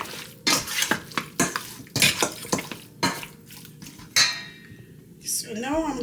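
Curry goat being stirred in a metal pot with a spoon, giving a run of close, sharp scrapes and clinks against the pot, with a light sizzle between the strokes.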